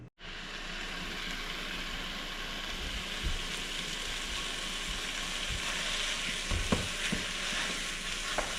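Chorizo browning in a pan on a gravy-making stove, a steady close sizzle with occasional soft stirring knocks, continuous and alone.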